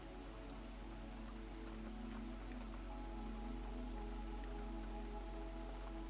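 Steady rain falls at night outside a pottery studio, a soft, even patter on surfaces with scattered droplet ticks, continuous and gentle with no voices.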